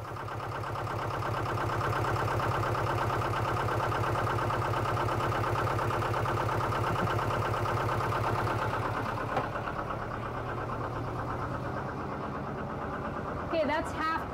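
Sailboat engine running during a sea trial off the Yucatan, a steady pulsing low chug at constant speed throughout, with a brief knock near the end.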